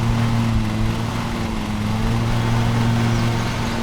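Steady lawn mower engine drone from the Lawn Mowing Simulator video game, its deck lowered, running at an even, loud level for the whole stretch with a strong low hum and no talk.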